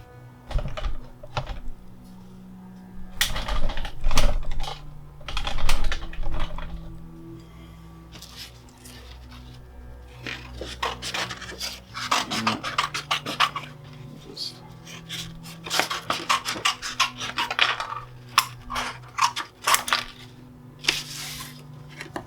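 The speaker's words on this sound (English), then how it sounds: "I'm gonna do some cutting on paper first." Crisp snipping and rustling of scissors working through paper, in bursts with pauses, close up.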